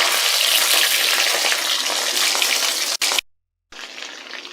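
Fish frying in hot oil makes a loud, steady sizzle. It cuts out briefly near the end, then resumes at a slightly lower level.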